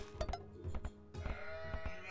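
Sheep bleat several times in Age of Empires 2 on an Arabia map, the short game-animal calls clear and close over a steady background of game sounds.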